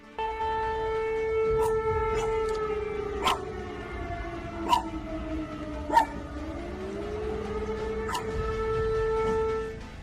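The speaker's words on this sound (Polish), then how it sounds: "Syreny znów wyły w Polsce z powodu rosyjskiego ataku." Air raid sirens sound across Poland during a Russian drone attack: a sustained wailing tone that dips and climbs in pitch, broken by scattered sharp yelps or clicks, with no voices.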